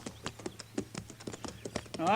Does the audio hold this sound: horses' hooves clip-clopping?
yes